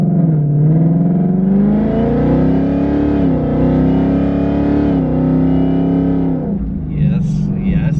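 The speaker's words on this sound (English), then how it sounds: "You can hear the blower whine more. And that's just like quarter throttle, just getting up to speed." A pulley-modified 2019 Mustang with a VMP Odin supercharger accelerates at light throttle, its engine note rising steadily with a prominent blower whine, loud and close from inside the car, easing off near the end as someone speaks briefly.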